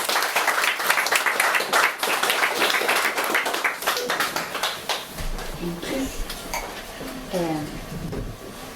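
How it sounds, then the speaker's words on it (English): An open-mic night audience applauds with dense clapping for about five seconds. The applause fades as a voice starts speaking, and faint clinks of glasses and dishes sound from the venue. "Can we give a huge round of applause"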